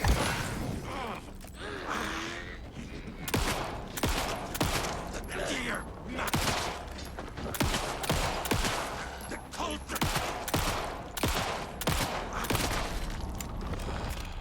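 Video-game gunfire in Alan Wake rings out as repeated sharp shots spread across the scene, some in quick bursts, over a low ambient background with faint sounds in between.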